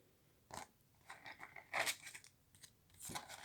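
A deck of tarot cards is cut by hand, giving a few short crisp shuffling and snapping bursts close by, spaced over a few seconds with quiet gaps and no speech.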